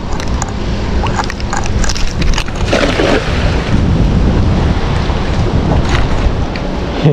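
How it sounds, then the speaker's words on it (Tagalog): Heavy rain pours down in a steady, loud roar with dense patter throughout, no voices present. "Malakas na ang ulan."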